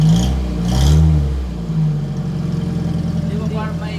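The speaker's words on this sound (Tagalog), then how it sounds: "I-rev mo nga." A Toyota 4K engine in an owner-type jeep revs once, rising and falling, then settles into a steady idle rumble, loud and close, with people talking over it.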